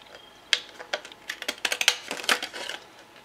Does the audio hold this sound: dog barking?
no